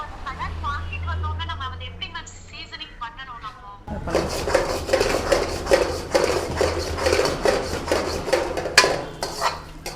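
A ladle clanks and scrapes against a metal pan while rice is tossed during a cooking class. The steady, busy metallic scraping and knocking starts midway, and a person talks over it.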